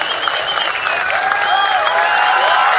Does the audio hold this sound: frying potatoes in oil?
no